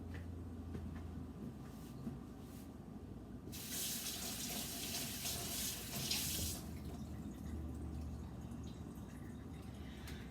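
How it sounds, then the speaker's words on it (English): Hands are washed under a running tap, a soft trickle that turns into a louder, close gush of water for a few seconds before easing back to a quieter flow. "we need to wash our hands"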